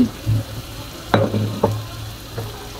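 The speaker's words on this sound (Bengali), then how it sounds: "দিয়ে এখন চিকেনটাকেও হালকা একটু ভেজে নিব।" Chicken pieces fry lightly in a pan with salt, onion and garlic for chicken soup. A close, soft sizzle runs underneath a few sharp spatula knocks and scrapes at uneven intervals, with no voices.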